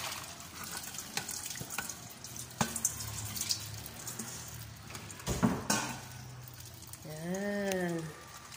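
Ampalaya (bitter gourd) rinsed under a running kitchen tap, splashing water with soft knocks and handling noises, then a short swooping hum near the end.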